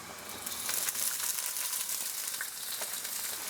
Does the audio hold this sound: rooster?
no